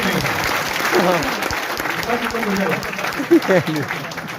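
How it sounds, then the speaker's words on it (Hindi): A crowd at a scheduled caste and tribe honors ceremony in Shergarh applauds the founding of a women's college, with a steady bed of clapping running beneath a man's continuing speech. "बजाओ तालियां"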